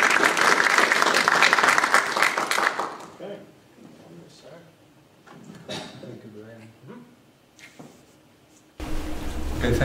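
Audience applause welcoming a speaker to an engineering lecture, dense clapping for about three seconds that fades out, followed by someone talking, then a loud burst of handling noise near the end.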